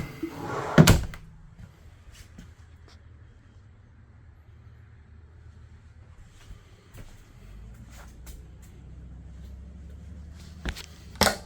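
A quiet room with a low hum, broken by a sharp wooden thunk near the start and another close by at the end, as pull-out dinette drawers in a 2023 Bloomer stock trailer's living quarters open and slide shut.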